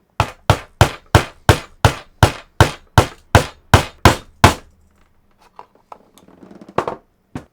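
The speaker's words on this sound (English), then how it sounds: "Just going to town with the hammer." Eleven sharp, evenly spaced hammer blows strike a 4 TB SSD, ringing out close and loud, followed by a few faint clinks and light rustling.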